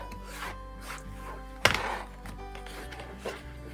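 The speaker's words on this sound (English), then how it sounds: "I'm going to cut up one side" A rotary cutter slicing quilting fabric along a ruler to trim a half square triangle block, soft rubbing and scraping strokes around one sharp thunk, close and quiet.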